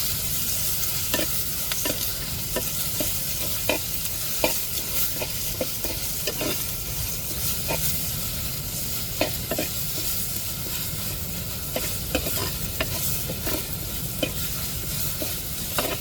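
Ginger garlic paste ground on a stone, sautéed with tomato and onion for a home egg curry: a constant oily sizzle runs throughout while a spoon scrapes and stirs the pan in steady, repeated strokes.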